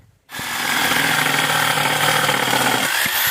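A power saw starts abruptly and runs at a steady, loud whine through an aerated concrete block, close by, with no talking.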